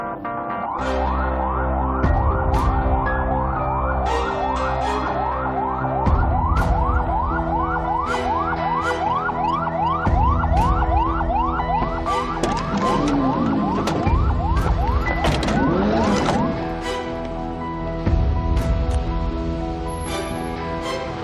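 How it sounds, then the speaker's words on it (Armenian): An ambulance siren wails in a continuous rising and falling sweep for about twenty seconds, loud and close, with traffic noise underneath and no talk. "Էս իմ կանչած շտապօգնությունը ինձ շուտ է տեղ հասել։"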